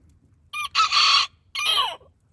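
A rooster crows in a barn among chickens: a short, loud, close cock-a-doodle-doo in two bursts, each rising then trailing off in a strained tail, set against a quiet background with no talking.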